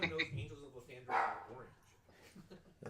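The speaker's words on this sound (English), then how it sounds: "off in the corner, a little dog chirps" A small dog giving a few quick, high yips and barks, fairly faint, mixed in with people talking nearby.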